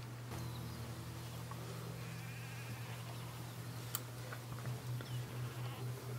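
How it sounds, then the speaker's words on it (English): Sheep bleat in Ghost Recon Wildlands, several wavering calls over a steady low hum and ambient game background, with a sharp click partway through and no talk. "Don't mind me, Mr. Sheep."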